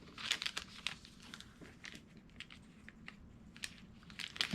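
Adhesive backing strip peeled off a small 3x8 plastic baggie during papercraft work, producing faint, close crinkling and light tearing crackles in quick irregular bursts, with no talking.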